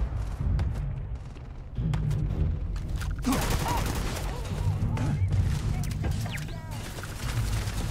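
Rapid gunfire in the Starfield video game, a sustained volley of loud, closely spaced shots with booming impacts that grows denser partway through, heard over constant game background noise.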